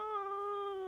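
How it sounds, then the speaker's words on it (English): A cat gives one clear, drawn-out meow close up, steady and tonal, lasting just under a second. "I hear a kitty."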